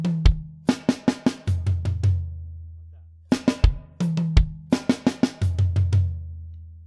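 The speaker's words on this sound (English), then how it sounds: "you're going to be playing 2 snare hits and then a bass drum, then 2 tom hits and then a bass drum" A drum fill on a kit, played twice: two snare hits then a bass drum kick, then two tom hits and another bass drum, in a quick, close, crisp pattern with short gaps between the repetitions.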